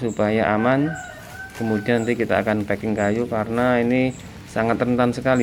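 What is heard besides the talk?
rooster crowing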